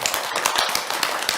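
Audience applause rises at a talk on the Sixth Patriarch Sutra, a dense, steady patter of many hands clapping close by.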